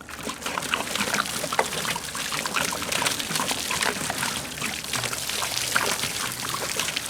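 Water pours and splashes steadily over a sand- and mud-caked Barrett .50 cal rifle, a continuous close trickling rush with no pauses.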